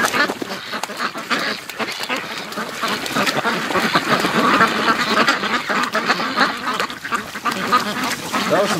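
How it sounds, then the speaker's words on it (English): Many ducks quack frantically at once, a loud, dense, agitated chorus that continues without pause throughout. "That was some serious freak out duck action"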